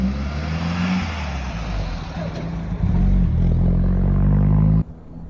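Triumph Roadster engine heard from inside on the road, a steady droning hum that swells louder as the car picks up speed, then cuts off abruptly at the end.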